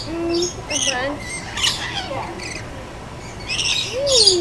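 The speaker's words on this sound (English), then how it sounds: "how many birds do you have on you?" Several pet birds perched on a person give sharp squawks and chirps in scattered bursts, close and fairly loud, with faint voices in the background.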